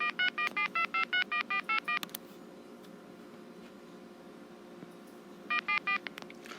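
Corded Southwestern Bell trim line telephone auto-dialing a stored memory number: a rapid run of about ten crisp DTMF tones, a pause of faint hiss, then several more tones, close and clear.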